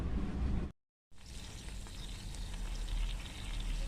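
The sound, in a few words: masala-coated fish frying in a pan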